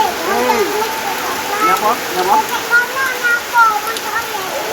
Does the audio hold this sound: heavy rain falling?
yes